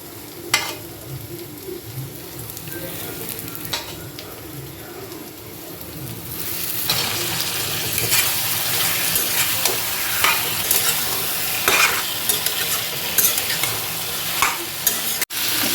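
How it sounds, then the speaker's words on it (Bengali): Mutton sautéing and being stirred in a pan for mutton bhuna, a steady broad sizzle with scraping stirs, growing louder and denser partway through, with no voices. "একদম ভালো মতো এটা কষছে"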